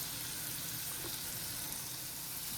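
American Wagyu steak sizzling steadily in a hot pan, a continuous soft hiss of frying fat at low level with no talking.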